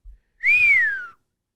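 A person whistles one clear rising-then-falling note lasting under a second, close and alone after a brief low thump.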